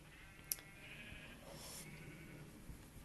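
A sheep in the game Minecraft bleats softly once, a faint wavering call over a quiet background, with tiny click-like pops at the start and end.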